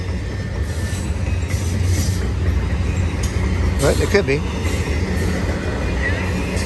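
An eastbound BNSF intermodal freight train hauling international containers rolls past at Rana, California, a steady loud rumble of railcars with brief wheel squeal, while a person speaks briefly nearby.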